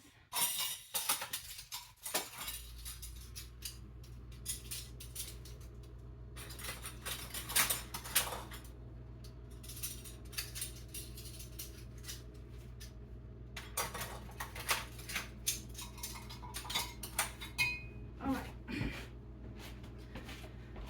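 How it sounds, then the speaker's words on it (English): Metal lids and rings go onto glass jars of homemade turkey stock, with scattered clinks, taps and light scraping at close range over a steady low background hum. "I'm going to go through and put a lid on every one of these"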